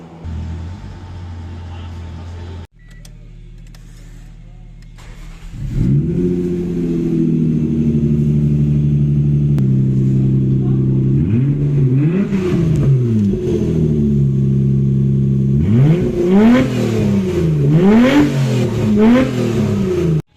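A Mazda car engine turns over and catches, settles into a steady idle, then revs repeatedly in rising and falling surges, loud and close, with no talk over it.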